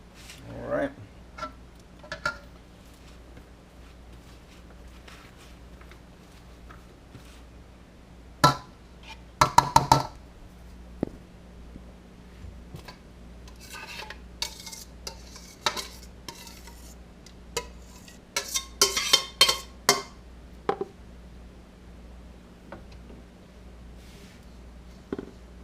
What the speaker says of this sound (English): we're gonna go ahead and mix all this in